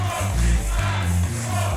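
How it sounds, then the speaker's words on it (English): Wrestling crowd at the Ocean View Pavilion cheers loudly and steadily for Scorpio Sky at a Championship Wrestling from Hollywood show, a dense roar that swells and dips without pause. "Scorpio Sky taking in the cheers from the Ocean View Pavilion crowd"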